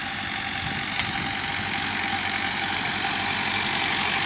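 A Sonalika 60 tractor engine runs continuously in a steady, loud, close diesel chug with an even rhythmic rumble throughout, no voices heard.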